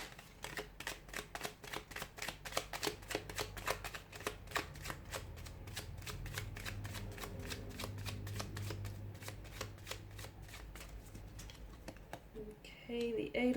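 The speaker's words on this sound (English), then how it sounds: "give the cards a shuffle" Tarot cards are shuffled by hand in rapid, crisp riffling bursts, close and clear, the shuffling fading near the end as brief indistinct voice sounds come in.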